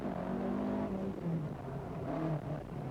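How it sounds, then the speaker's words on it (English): Yellow Ford Sierra rally car on a 1987 Ulster rally stage accelerating, a steady engine drone with rising and falling revs, heard from a distance at modest level. "Mark Lovell in the distinctive yellow Sierra is next away."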